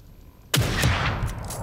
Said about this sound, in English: I took her out with one shot.